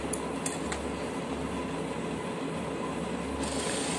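A sewing machine runs continuously while stitching a blouse, giving a steady whirring mechanical hum with a low motor drone and a few faint clicks, with no voices.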